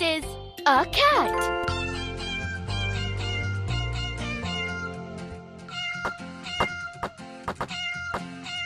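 Cartoon cat meowing over bright musical tones in a children's animal song, a few pitched meows up close followed by tinkling chimes and bell-like notes.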